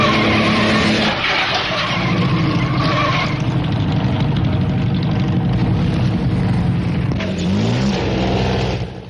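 Early racing cars from the 1914 race roar past on a twisting road circuit, loud engines revving and accelerating with a tire-squealing skid near the end, a continuous, close mechanical din.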